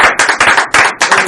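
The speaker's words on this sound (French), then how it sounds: "On peut applaudir encore" A small studio audience on a radio show claps in quick, sharp, close bursts, a short uneven run of loud hand claps.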